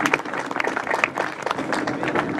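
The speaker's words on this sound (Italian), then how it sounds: "Io chiedo a voi così un breve applauso a chi ha partecipato questa sera" Short audience applause at an evening political gathering, distinct uneven claps from a modest crowd, close and fairly lively, with faint voices underneath.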